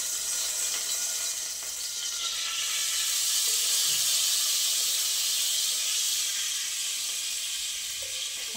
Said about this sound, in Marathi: त्यानंतर त्याच कढईमध्ये आपल्याला तेल टाकायचे परत।